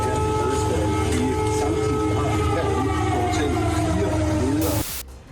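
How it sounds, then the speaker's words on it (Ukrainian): An air raid siren wails over Kyiv in a long, loud, continuous tone with a faint murmur beneath it, then cuts off abruptly near the end. "А вот Киев встретил их сигналом воздушной тревоги"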